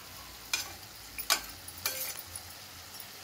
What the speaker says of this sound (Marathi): आता आपण परत परतून घेऊया।